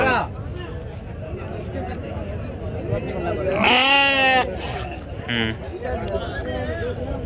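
Sheep bleat at a crowded livestock market, one long wavering bleat standing out clearly over constant crowd chatter and people talking nearby.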